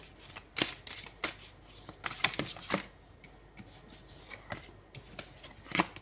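Tarot cards being shuffled by hand during a reading, a run of crisp riffling bursts and soft slaps, close and fairly quiet, with brief pauses between shuffles and no talking.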